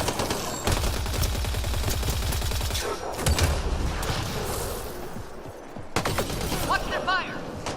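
Sustained automatic weapon fire and bursts of shots in a Mass Effect Andromeda multiplayer firefight, loud and dense, with brief pauses and impacts, while a voice calls out between volleys.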